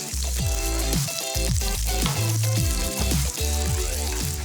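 Tofu pieces fry in sage-infused oil, a steady close hiss and crackle that runs without a break, while tonal layers sit over the sizzle.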